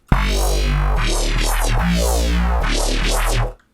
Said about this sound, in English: which in its default state is removing the frequencies of the chord from the bass